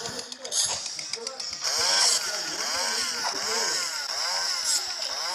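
A buzzing, revving chainsaw whine in the video game Bendy and the Ink Machine, with rising and falling pitch, runs throughout while a voice talks excitedly over it.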